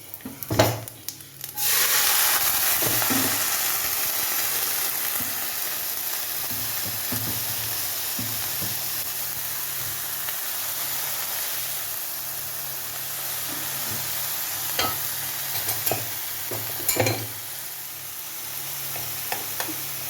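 Onions frying and being stirred for Sadya-style cabbage thoran, a loud steady sizzle that bursts up after an opening clatter, with occasional scraping and knocks of a spoon against the pan and no talking.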